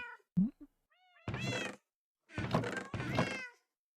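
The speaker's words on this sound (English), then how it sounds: "I hear you, cats." Several cats meow in short, close calls indoors, a couple of separate drawn-out meows plus a brief thump and a few tiny chirps, with no speech.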